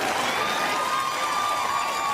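Studio or live audience cheering and applauding in a steady, continuous wash of crowd noise that holds at an even level for about two seconds.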